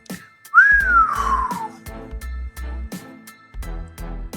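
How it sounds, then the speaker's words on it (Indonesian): A single long, rising then falling whistle, clear and close, followed by quieter rhythmic knocking. "Si pemuda mengeluarkan siulan panjang."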